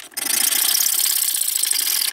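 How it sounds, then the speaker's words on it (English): A 10 millimetre steel tube is cut by hand, making a short, bright, rasping burst of about two seconds that is steady and close, with no voices. "I'm going to cut the two guides out of a 10 millimeter steel tube."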